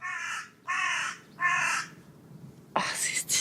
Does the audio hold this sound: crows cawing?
yes